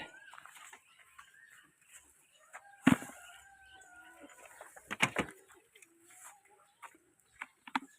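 Rhode Island Red chickens at feeding time give soft clucks and short calls, fairly faint and scattered, with a few louder sharp knocks and bursts breaking through.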